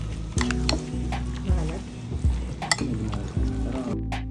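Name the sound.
stirring mayonnaise into egg and food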